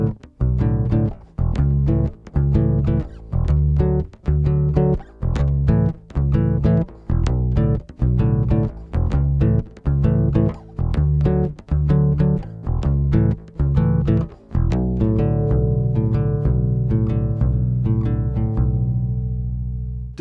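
A Kala U-Bass Journeyman with mahogany body and neck, rosewood fretboard and round-wound strings plays a rhythmic bass line of punchy plucked notes with short gaps, ending on a long sustained note, loud and close.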